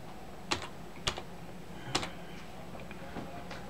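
Several sharp key clicks on a computer keyboard sound close and fairly quiet in a still room during a basic computer lesson, with three distinct taps followed by softer, sparser ones.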